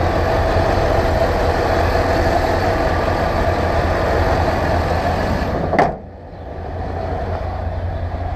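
A 1989 Chevrolet C/K 1500 4x4 stepside pickup engine idles steadily and smoothly up close, a continuous low rumble that cuts off abruptly near the end, leaving quiet background.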